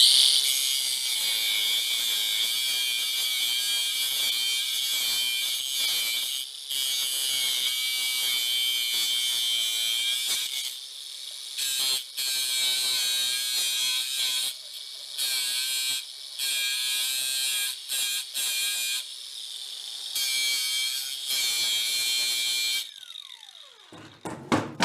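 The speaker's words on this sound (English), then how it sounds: "Maybe we'll take a grinder and just clip a little bit of that off right there" Angle grinder trimming metal on a busted-up vintage mini bike: a loud, sustained high-pitched grinding whine that runs steadily with brief dips, then winds down in a falling spin-down at the end, with no talking.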